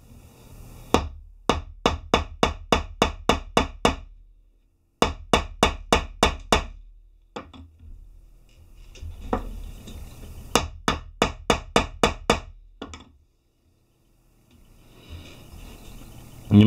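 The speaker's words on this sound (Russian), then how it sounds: "И тем же молоточком, значит, его туда зафигачиваем." Rapid metal hammer blows driving a ball into a Lee bullet, in several quick bursts of about ten strikes each, sharp ringing taps close by, separated by brief pauses.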